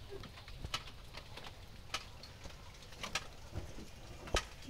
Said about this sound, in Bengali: লাল বর্ডার জারলি বুনো কবুতর বলে, খুবই সুন্দর, চোখ টুকটুকে করা লাল